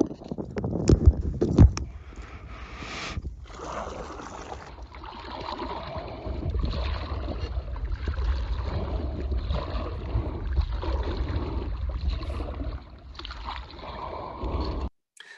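A boat is rowed on a reservoir, with a continuous low rumble of wind and water plus splashing and creaking, a few knocks near the start, and no voices.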